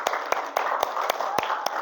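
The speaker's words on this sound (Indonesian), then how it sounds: "Oke, tepuk tangan dulu untuk kelompok 1." A class claps for a student group in a patterned rhythm, with sharp, distinct claps spaced at regular intervals over a constant hum of room noise.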